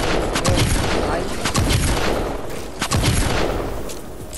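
Rapid, dense bursts of gunfire crackle in Fortnite Save the World, loud and close, with repeated shots and booms overlapping through the whole stretch and voices talking over them.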